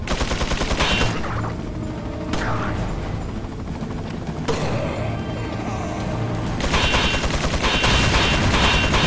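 Sustained, loud gunfire rattles in the video game Resident Evil 4, with dense overlapping shots and bursts that continue with barely a pause throughout.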